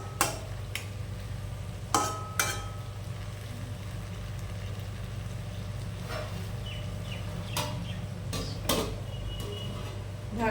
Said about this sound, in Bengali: মশলাটা মিশিয়ে নিয়ে অল্প একটু জল দিয়ে